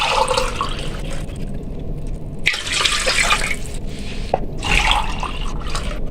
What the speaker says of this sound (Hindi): इसमें हम अब 3 कप पानी ऐड कर देंगे।